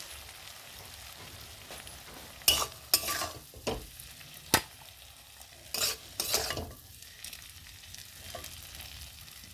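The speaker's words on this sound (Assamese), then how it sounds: "আৰু হৈ গ'ল মোৰ মাছৰ তেলৰ সৈতে বেঙেনা ভাজি।" Brinjal frying in katla fish oil in a pan, stirred in bursts of scraping and sizzling that come and go over a quiet background, with no talking.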